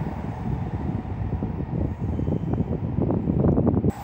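N700 series eight-car Shinkansen accelerating out of a station, a rising rumble of wheels and rushing air with rapid rhythmic rail beats growing louder toward the end, heard from nearby without talk.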